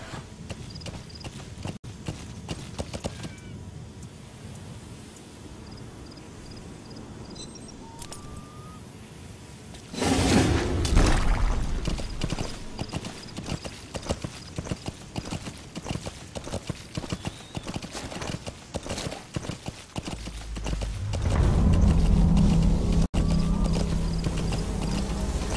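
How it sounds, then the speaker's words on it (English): Horse hooves clip-clop steadily in the video game Metal Gear Solid 5, a continuous walking rhythm near and clear, with a louder rumbling stretch midway and game ambience around it. "The horse."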